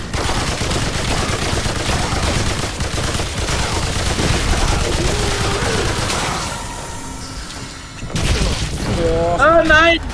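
Rapid sustained gunfire during a boss fight in the video game Remnant 2, loud and dense, heard under a player talking, then a brief lull and further bursts.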